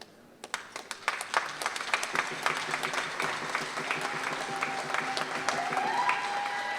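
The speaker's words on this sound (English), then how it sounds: "I'd like to have a round of applause, if you could, to welcome State Representative Chris Stearns" At a Muckleshoot opening ceremony, applause starts with scattered claps and swells into a steady crowd round, with faint voices and a rising tone at the end.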